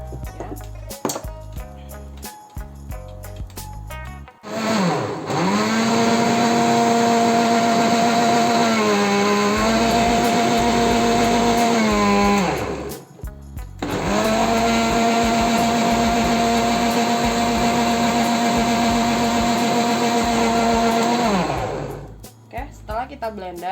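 A kitchen blender whirs steadily, puréeing spinach with about 250 ml of water for homemade noodles, in two long loud runs with a short pause between them.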